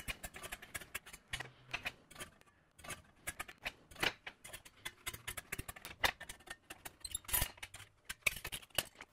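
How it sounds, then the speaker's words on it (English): Tin snips cut a sheet metal blank in a quick series of sharp, crisp clicks and snaps, faint and irregularly spaced, with no talking. "I'll make the roughing cut with the left and right snips"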